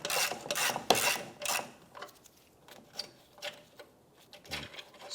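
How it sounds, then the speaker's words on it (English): Loosening and removing an 8mm bolt from the underside of a 2005-2007 Ford Five Hundred bumper near the fog light mount gives quiet ratcheting and scraping clicks in short irregular bursts, close up with no talking. "Then you're going to find an 8mm bolt right here. Go ahead and loosen and remove this."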